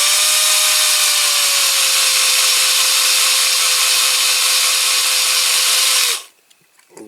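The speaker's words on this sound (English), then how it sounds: "So I'll start off with a smaller drill" A cordless drill with a small, blunt bit bores into a die-cast Dinky Toys AEC Transporter model, giving a loud, continuous whine and grinding for about six seconds before stopping abruptly, with no talking.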